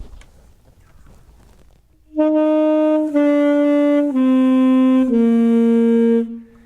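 A quiet room, then four connected saxophone notes descend smoothly with barely any separation, the tongue not touching the reed, the attacks soft and blurred into one another.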